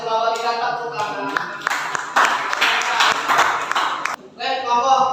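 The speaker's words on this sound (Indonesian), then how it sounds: "Tepuk tangan." Classroom students clap for a presenting group during a teaching assessment session, a burst of clapping in the middle with voices talking before and after it.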